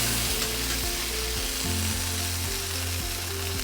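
Butter sizzles in a pan over low-medium heat with a constant close crackling hiss and faint low hum, no talking.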